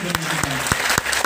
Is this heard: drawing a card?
no